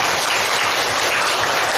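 Students in a vocational high school classroom give a round of applause, a brief, dense and steady burst of many hands clapping with no pauses.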